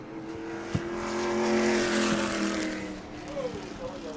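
Race car engines roar past during heat races on an oval track at New Smyrna, swelling and fading as they pass, with a whining pitch shift and a voice talking faintly underneath.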